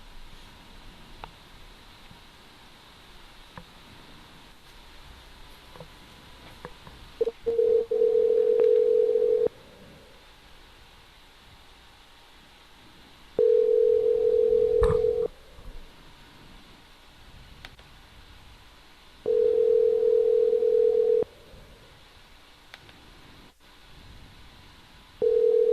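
A telephone line during an outgoing call: a steady tone repeats in long even bursts, about two seconds on and four off, over a faint hiss, with no voices.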